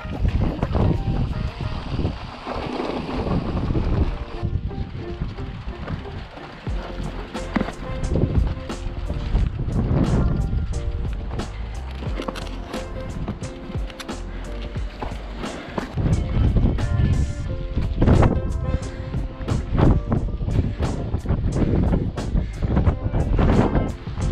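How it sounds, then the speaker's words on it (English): Strong wind buffets the microphone in loud, continuous gusts and rumbles on a desert bikepacking trail, with brief bursts of faint voices now and then. "It's windy. It's really windy."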